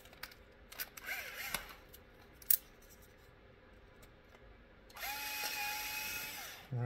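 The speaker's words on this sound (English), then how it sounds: "So first thing we'll do is drill out those holes." A small drill with a 2mm bit boring holes in a radio tray during an RC car build, with short whirring bursts, a click, then a steadier sustained whir near the end, close and fairly quiet, no talk.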